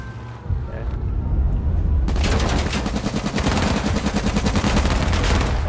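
Gunfire in the video game H1Z1 Battle Royale, quiet rumble at first, then a loud, rapid automatic burst that rattles on steadily for several seconds, with a voice briefly heard.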